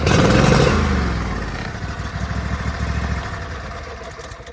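A lawn tractor engine starts with the choke on after a starter repair, opening with a loud burst, then settling into a steady chugging idle nearby with no talk.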